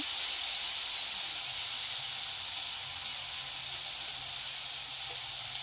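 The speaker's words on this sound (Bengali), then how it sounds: "এই যে ভেজে নিচ্ছে উচ্ছে আলুগুলোকে" Round slices of bitter gourd and potato frying together in a pan give a steady, even hiss that holds unbroken throughout, with no talking over it.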